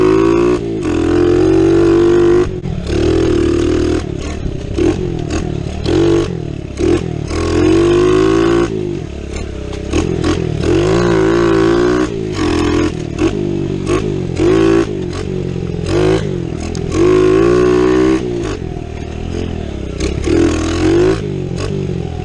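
A $200 Kawasaki KLX 110 pit bike engine runs loud and close for the whole stretch, its pitch rising and falling with repeated revs and throttle blips, with no talking over it.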